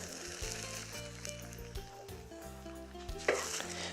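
Scrambled herbed eggs being gently stirred in a frying pan, with soft scraping strokes and a low sizzle running steadily, plus a louder clink of utensil on the pan near the end.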